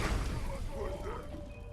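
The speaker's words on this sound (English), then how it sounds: "I'm hoping the explosion will be stopped by the fire" A grenade explodes in Fallout 4, a loud, dense, rumbling blast with heavy low-end crash that fills the whole brief moment.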